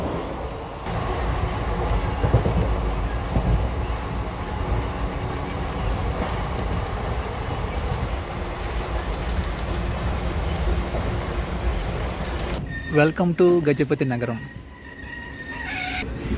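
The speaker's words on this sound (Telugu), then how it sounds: "గజపతి నగరం నుంచి కూడా మన ట్రైన్ అయితే బయలుదేరిపోయింది" The Guntur–Rayagada passenger express pulls out of Gajapathinagaram station with a steady rumble of wheels and carriages. Someone talks over it, and sharper rattling clatter rises near the end.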